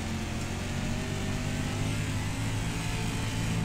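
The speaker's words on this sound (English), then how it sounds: "Listen to that roar, that Pro late model. It sounds pretty good." Pro late model race car engine roaring steadily in iRacing on a dirt track at Charlotte, a dense, continuous loud drone with no clear breaks.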